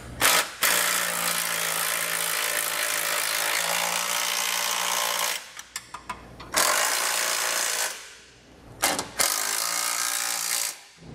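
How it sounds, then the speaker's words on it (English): Socket and wrench snugging down hardware on a Roadmaster crossbar-style base plate kit on a 2016 vehicle, heard as long loud bursts of a buzzing power tool with short gaps and clicks between them, close up. "I'm going to take a socket and a wrench and snug it all down."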